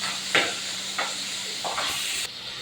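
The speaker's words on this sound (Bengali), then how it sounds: "মাছ ভাজা চাপিয়ে দিয়েছি" Pabda fish frying in hot oil gives a steady hiss and sizzle, with a few brief louder spits and crackles rising over the continuous frying noise.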